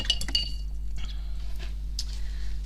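Paintbrush rinsed in a glass jar of water: a few light clinks and taps of the brush against the glass at the start, then soft swishing and occasional small knocks, close and quiet.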